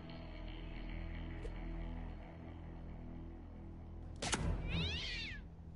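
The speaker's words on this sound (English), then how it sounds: "Here, kitty, kitty." A cat in the South Park: The Fractured But Whole video game gives a single drawn-out, wavering meow near the end, clear and close over a low game soundtrack hum.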